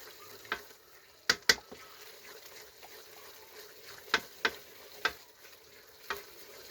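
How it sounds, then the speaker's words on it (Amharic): Onions being stirred and fried in a pot for Ethiopian meat stew, a steady low sizzle broken by several sharp scraping clanks of a utensil against the pot, close up with no talking. "አሁን ሽንኩርቱን እያበሰልኩ ነው።"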